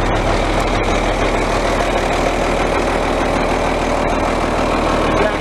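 A 1979 John Deere 4640 tractor engine running at a steady idle, a continuous low diesel rumble heard close up and alone with no talk, holding an even level throughout.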